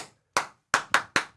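Five sharp hand claps in an irregular pattern, close and loud, with short silent gaps between them, the kind of brisk clapping used to quiet a room full of children.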